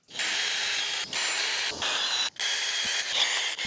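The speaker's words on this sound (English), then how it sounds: "I get the holes drilled and the screws put in" A power drill drilling holes and driving screws into a wooden board on a DIY garden bench, loud sustained whirring bursts broken by short pauses, close by.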